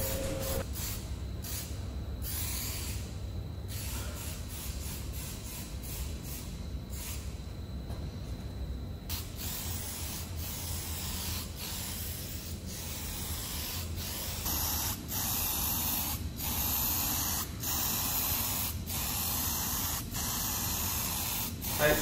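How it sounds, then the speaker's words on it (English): Spray can hissing primer filler onto a repaired car panel, steady continuous spraying across the whole stretch with short pauses and repeated passes, close and fairly loud. "I've sprayed three coats of the primer filler."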